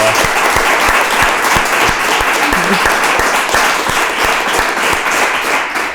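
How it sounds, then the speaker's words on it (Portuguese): A large live studio audience breaks into loud, sustained applause to welcome the guest Mário Pardo on a breakfast talk show, dense clapping continuing steadily throughout with some cheering in the crowd. "vou-vos pedir para baterem palmas como se não houvessem amanhã"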